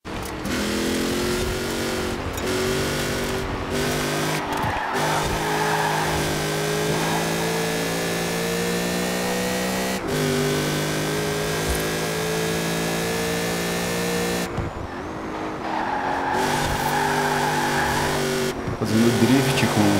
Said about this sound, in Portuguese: Fazendo drift com a caminhonetona.